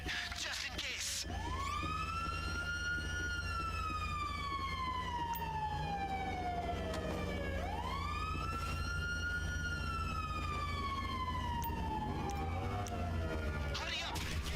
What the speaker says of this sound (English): those sirens are everywhere